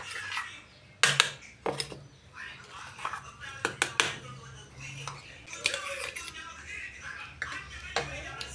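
Chutney (roasted-chili chammanthi) being moved onto a plate, with scattered sharp clinks and taps of a utensil against dishes under quiet talk.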